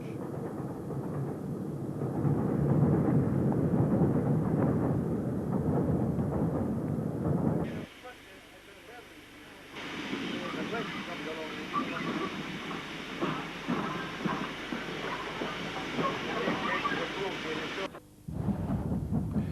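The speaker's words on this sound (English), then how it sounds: "This EMU is passing the junction where the loco depot tracks join the Glossop branch." An EMU electric train passing a railway junction where depot tracks join a branch line makes a low, steady rumble that drops away, then returns as a rougher, clattering roll, heard at a distance.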